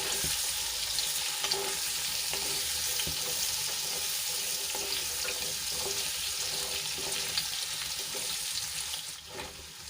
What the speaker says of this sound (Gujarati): સક્કરિયાને સરસ રીતે તેલમાં મિક્સ કરીને થોડી વાર માટે સાંતળે લઈશું